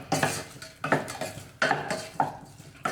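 A spoon mixes pepper rasam ingredients in a pot, giving four or five distinct clinking scrapes against the metal in a steady rhythm, close and fairly loud, with no talking.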